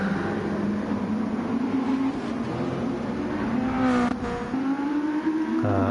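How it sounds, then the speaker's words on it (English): GT2 race car in a racing video game, its straight-cut gearbox whining over a loud, continuous engine note that rises and falls through shifts, with a brief sharp burst near the end. "Can we quickly appreciate the sound of the straight cut gearbox?"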